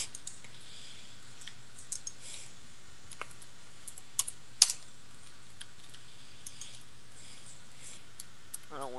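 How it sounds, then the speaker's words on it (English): Soft, scattered keyboard clicks tap irregularly at low volume, a few louder keystrokes standing out against a quiet background hum. "stop typing"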